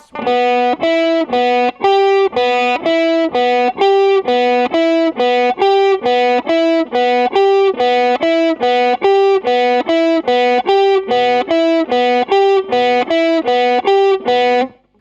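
A loud, distorted electric guitar plays a riff: short chugging notes alternating between a few pitches in a steady, repeating rhythm, played alone without pause.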